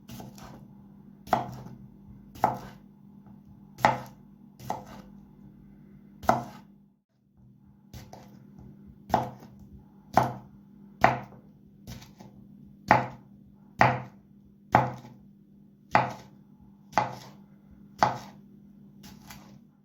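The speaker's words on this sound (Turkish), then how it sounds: "salatalığı da şu şekil ince ince doğruyoruz" Cucumber is sliced thinly with a knife in a regular series of about fifteen crisp taps on a cutting board, close and distinct, with a brief pause midway over a low steady hum.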